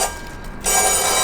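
Doorbell ringing at a home's locked door on a wedding-preparation day, a steady electronic ring that fades briefly and then sounds again, loud and close, with no voices over it.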